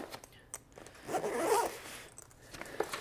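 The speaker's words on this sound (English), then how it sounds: "Zip this up" A zipper on a travel backpack is drawn closed in one close, raspy pull lasting about a second, with soft fabric rustles around it.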